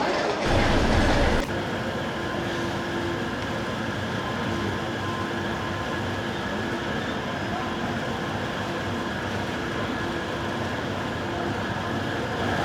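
The 12076 Jan Shatabdi Express pulls out of Varkala Sivagiri station, heard from inside the coach as a steady rolling rumble of wheels on track after a brief louder burst at the start.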